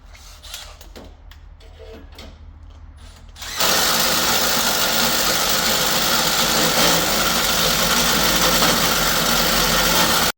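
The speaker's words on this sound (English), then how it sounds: "then fire it up and rev it up and spit out all any leftover dust" A few quiet clicks and rattles, then a Lamborghini Huracan engine with gutted catalytic converters abruptly roars to life and keeps running loud and steady with a harsh, noisy tone.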